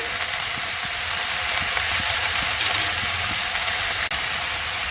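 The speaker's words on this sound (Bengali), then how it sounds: "সবজিগুলো পাঁচ মিনিট ধরে ভেজে নেব" Vegetables for a spinach chorchori (palong shaker chechra) frying in a pan, giving a steady, close, even sizzling hiss that runs unbroken throughout, with no talking.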